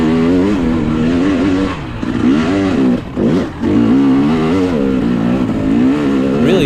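A KTM 300 dirt bike engine races through a hare scramble on slick rock, revving loud and close with a steady throaty drone, briefly dipping around the middle as the bike slides, then pulling hard again.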